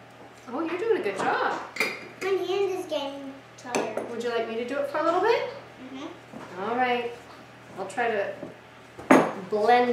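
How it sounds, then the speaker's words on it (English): Oatmeal cookie batter stirred in a bowl, spoon clinking and scraping against the bowl under almost continuous talk from an adult and a child. "You keep stirring it because we need it really stirred up."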